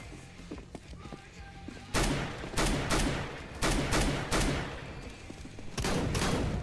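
Bursts of gunfire in the video game CS GO crack out in several sharp volleys over a few seconds, loud and close, following a quieter stretch.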